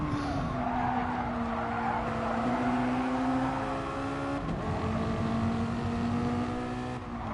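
Touring cars racing in Gran Turismo Sport, a close engine drone with rising and falling pitch as gears change, plus tire squeal on a corner, continuous and fairly loud.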